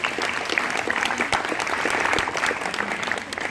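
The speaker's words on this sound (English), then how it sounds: "Give him a round of applause" A crowd applauds a sheriff's deputy at a summer camp awards ceremony, dense sustained clapping with scattered sharp individual claps, fairly close and steady for several seconds.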